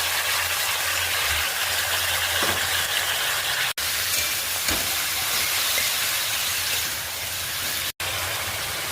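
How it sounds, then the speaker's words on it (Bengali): Chopped onions fry in a pan for a chicken stew with a loud, steady broadband hiss and faint crackle, running continuously with two abrupt momentary dropouts. "এবার আমি দিয়ে দিচ্ছি কুচি করা পেঁয়াজ।"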